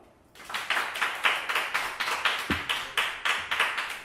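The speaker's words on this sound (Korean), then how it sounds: "박수 다시 한번 보내주시고요" Steady applause from a small group, rapid claps overlapping in a continuous patter, fairly close and moderately loud throughout.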